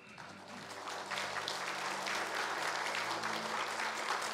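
Church congregation applauding during a Sunday worship service, a continuous rush of many hands clapping that swells in the first second and holds steady, fairly distant in a large room.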